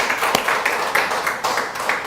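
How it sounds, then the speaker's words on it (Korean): A church congregation applauds during a Sunday worship service: many hands clap in a steady, rhythmic patter that fills the room for the whole moment. "하나님께 영광의 박수를."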